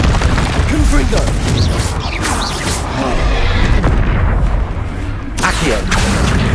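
Confringo blasting spells exploding in the video game Hogwarts Legacy, dense repeated booms and crackling bursts over continuous battle noise.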